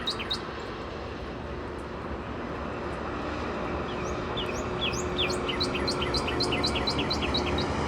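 A cardinal sings a series of clear, rising whistled notes repeated in quick runs, moderately close, over a steady low drone of a passing airplane with no talking.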